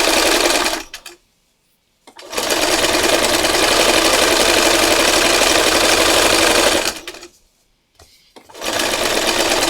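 A sewing machine stitches fabric in a loud, close, steady whir, running in two long bursts separated by a brief stop near the middle and another pause near the end.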